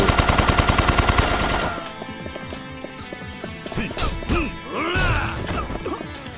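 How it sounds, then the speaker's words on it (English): Rapid Uzi gunfire in the video game Yakuza 3 Remastered, a loud, evenly spaced automatic burst up close that cuts off after a couple of seconds, then gives way to thumps and someone talking. "Oh, Uzis. Oh, okay, now they actually shoot."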